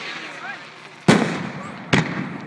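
Two sharp, loud firework bursts crack out about a second apart during a fireworks show, each trailing off into crackle, with people talking faintly beforehand.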